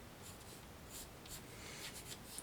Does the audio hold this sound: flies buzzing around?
no